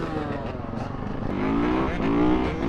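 A 2024 KTM two-stroke motorcycle engine revving nearby, a buzzy raspy drone that climbs in pitch over a couple of seconds and holds high, with no talking.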